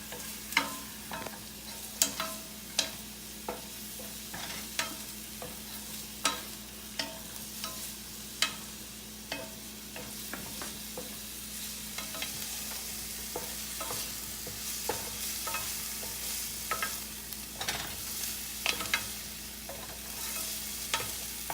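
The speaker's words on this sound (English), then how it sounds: "So in another skillet, I'll just do the plain meat crumbles." Vegan meat crumbles fry in a skillet with a steady sizzle, broken by repeated sharp scrapes and clacks of stirring, close and fairly loud, with no talking.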